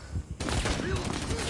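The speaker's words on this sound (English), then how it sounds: "Suppressing fire!" Sustained suppressing gunfire in Rainbow Six Siege, a dense close burst of rapid shots following a brief lull, loud and continuous to the end, with a voice over it.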